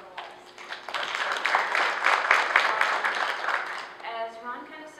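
A round of audience applause at a conference opening plenary, building quickly into brisk, fairly loud clapping that tapers off as a speaker's voice returns near the end.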